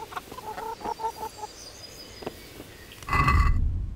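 Chickens in the medieval village of Talmberg in the game Kingdom Come: Deliverance, giving a few short, close clucks in the first half, with a louder burst of mixed noise near the end.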